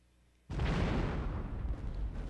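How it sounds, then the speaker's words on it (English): Explosions in a mobile video game erupt abruptly after a quiet start, a loud sustained roaring blast that rumbles on without letting up. "Ooh, explosions."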